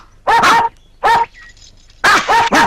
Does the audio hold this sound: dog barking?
yes